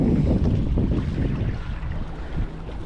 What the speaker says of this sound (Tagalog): may aalis na yate may aalis na yate